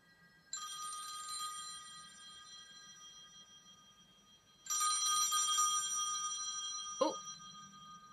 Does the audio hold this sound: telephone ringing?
yes